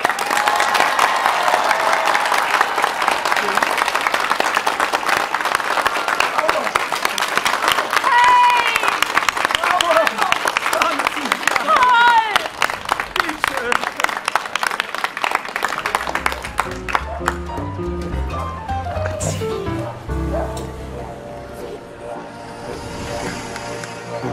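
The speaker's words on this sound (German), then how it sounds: "Bitte begrüßen Sie mit mir mit einem tosenden Applaus" A large crowd at an outdoor concert by Lake Wörthersee applauds loudly and continuously to welcome the performer, with cheers rising over the clapping, before it fades and music begins.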